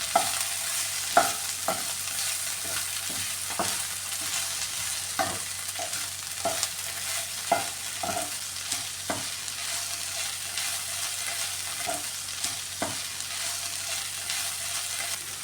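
Ivy gourd and carrot stir-fry in a pan, a low steady sizzle punctuated by regular sharp spatula scrapes and taps against the pan, close and moderately loud, with no talking.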